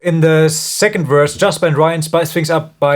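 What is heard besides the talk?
No everyday noise stands out behind the speech.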